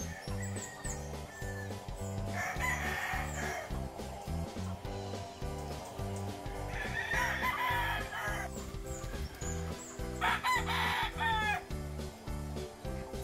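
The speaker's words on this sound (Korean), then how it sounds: "이곳은 알을 낳는 목적으로 암탉들을 키우고 있는 곳입니다." Hens at a laying hen farm in the Philippines cluck steadily while a rooster crows loudly three times, at a steady pace, over a dense, constant backdrop of poultry noise.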